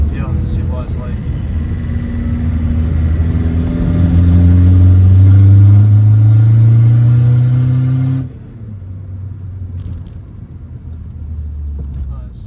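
A 1.9 TDI car with a 3-inch downpipe and no exhaust pulls hard in third gear, its loud droning engine note climbing steadily for about eight seconds before cutting off to a lower idle-like rumble.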